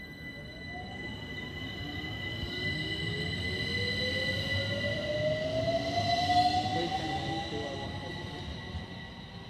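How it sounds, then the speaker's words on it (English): A London Overground train runs through Brondesbury Park station with a steady rumble. A long, high wheel squeal slowly rises in pitch, and faint sustained tones carry on throughout. "Our last train of today at Brondesbury Park."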